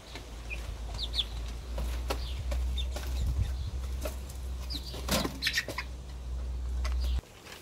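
Baby chicks in a tent campsite make faint scattered peeps and soft chirps over a steady low hum, with light pattering movement throughout.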